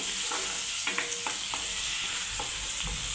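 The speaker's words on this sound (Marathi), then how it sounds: "पहिल्यांदा तर कांदा तळून घेऊया. चांगला कांदा तेलामध्ये." Chopped onion fries in oil for a tawa egg masala, giving a steady, close hiss of sizzling with a few soft stirring clicks throughout.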